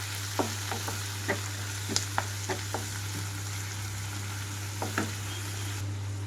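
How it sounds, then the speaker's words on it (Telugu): Fenugreek leaves fry in a pan on a low flame for a dhaba-style garlic methi curry, a steady soft sizzle under a constant hum, with a few light scrapes and taps of a spatula stirring. "నేనైతే ఇక్కడ లో ఫ్లేమ్లో ఉంచి వేయించుకుంటున్నానండి"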